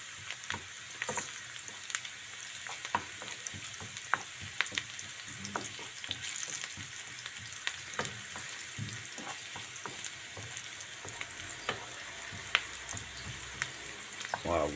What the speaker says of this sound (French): Il faut que l'huile soit bien chaude pour que le produit alimentaire soit bien saisi.